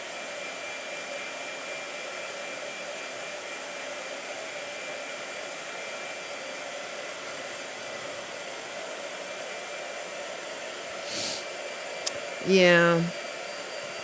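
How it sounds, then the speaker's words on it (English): A blow dryer runs steadily in the background as an even, continuous whoosh throughout, with a voice speaking briefly near the end. "Boy, you were not kidding on the blow dryer today,"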